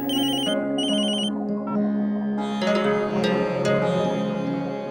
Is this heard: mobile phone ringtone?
yes